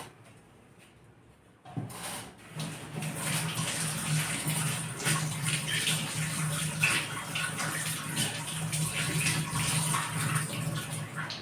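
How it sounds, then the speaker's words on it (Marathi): Khandu chakka leaves being washed in water in a plate, a steady close splashing and swishing that starts abruptly after a quiet moment and continues without talk. "मी हे सर्व पाने ताटामध्ये काढून घेतले आणि याला स्वच्छ धुवून घेते"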